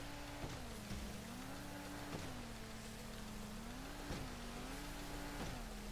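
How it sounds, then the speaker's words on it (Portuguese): A car engine in the video game GTA V revs up and down in a slow, repeating rise and fall. It stays fairly faint, with scattered clicks and no speech. "E ele tem barulho de carro."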